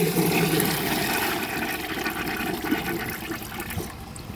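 An old, broken mint green toilet in a 1960 Peerless trailer flushes with a steady rush of gurgling water, close and continuous, tapering off slightly toward the end.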